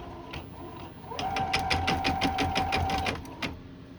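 An embroidery machine starts stitching, running a steady rapid needle rhythm for about two seconds with a high whine, then stops; close and clear, with no talking.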